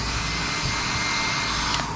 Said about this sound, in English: Our broken hair dryer.